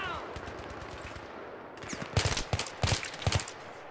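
Rapid automatic gunfire from Battlefield 3 gameplay, bursts of close, loud shots cracking in quick clusters over a steady background battle rumble, with several sharp volleys building in the second half.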